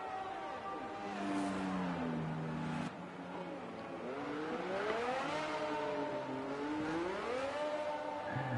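A race car in an F1 video game driving on a lap at Italy, its engine note climbing and falling through gear changes at a steady, moderately close distance, alone without talk.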